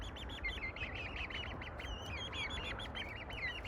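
Buff Orpington chicks peeping outdoors, a busy stream of high, thin chirps from several birds close by over a soft background hiss.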